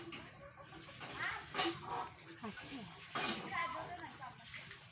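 Chickens cluck faintly in a home yard while people talk loudly and someone shoos a loose bird, the clucks scattered beneath the voices.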